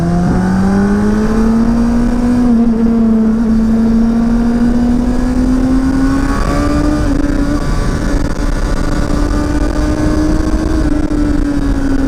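A car engine pulls hard while driving on a road in Veneto, its tone rising steadily as it accelerates through a gear, loud and continuous from inside the car with no talk.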